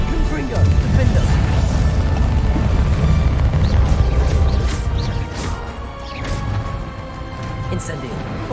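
Confringo blasting spell from Hogwarts Legacy, a loud booming explosion with crashing debris that rumbles for several seconds and slowly fades, under a voice speaking.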